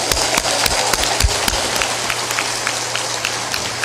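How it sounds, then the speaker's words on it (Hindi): A crowd at a religious discourse gathering claps loudly, a dense continuous applause with some sharper individual claps standing out near the start, filling the space without talk. "ताली बजा दो जोरदार।"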